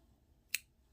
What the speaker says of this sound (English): so I am going to cut off a tail for sewing onto the body